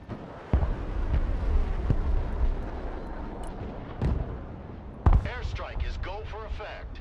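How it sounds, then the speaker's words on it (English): Two sharp, heavy airstrike blasts in a video game, one early and one near the end, over a rumbling, windy background, with a voice talking after the second blast. "Airstrike is go for effect."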